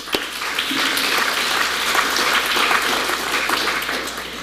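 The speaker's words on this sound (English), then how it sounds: "Please give them a round of applause." A round of applause from an audience at a panel event on New York as a 21st-century city, many hands clapping in a loud, dense, steady wash that holds for several seconds with no voices.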